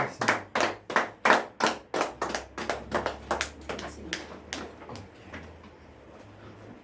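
A church congregation claps in rhythm to acclaim the Lord, a run of sharp, fairly close claps that starts strong and fades softer toward the end, with no talking.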